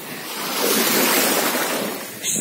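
Sea of Azov waves washing onto the shore at the Arabat Spit near Schastlyvtseve, a soft swell of surf rising and easing under light wind.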